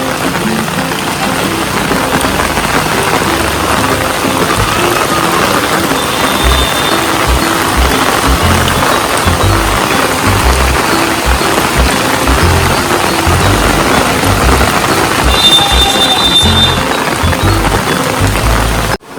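Heavy monsoon rain pours down in Rajkot streets, a steady dense hiss and patter filling the whole stretch at constant loudness, with a faint distant engine-like rumble underneath.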